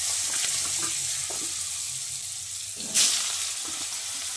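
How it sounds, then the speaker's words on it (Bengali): Potatoes frying in hot oil in a Bengali home kitchen after pointed gourd was fried in the same oil, a steady soft sizzle with a brief louder hiss and stirring near the end. "ওই তেলে এবার আমি আলুগুলোকে ভেজে নিচ্ছি"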